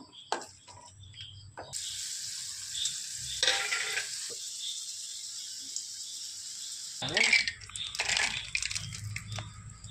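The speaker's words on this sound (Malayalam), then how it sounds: "നെയ്യ് ഒഴിക്കുക. നമുക്ക് മുന്തിരി ഇട്ട് കൊടുക്കാവേ." Raisins fry in ghee in a pan while nuts are roasted for biryani. A soft, hissing sizzle starts after a moment, eases off and then returns, faint and low in the room.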